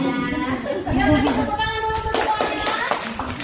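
Participants in an ice-breaking game in a school training session clap their hands together in short bursts while an adult voice talks and gives instructions over them.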